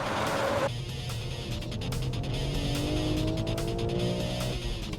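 A BMW M3 race car slides on a circuit, its engine holding a steady loud roar as pitch climbs and falls through the slide, with a brief tire squeal near the start and no talk.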